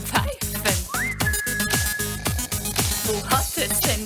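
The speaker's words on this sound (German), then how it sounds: "So während dem Einseifen fängt es an zu pfeifen." A pig being bathed and lathered with shampoo whistles a sustained rising note within a song, heard over a steady rhythmic music beat with repeated thumping pulses.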